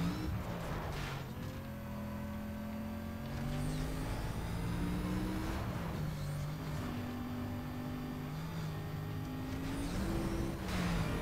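A Mercedes racing car engine in the Need for Speed Most Wanted video game revs and accelerates through repeated rising gear pulls, a loud continuous whine climbing and dropping between shifts.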